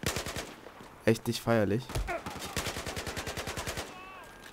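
Battlefield 4 combat: a rapid rattle of automatic gunfire with a few sharper blasts, close and loud, while German-speaking players talk over the shooting.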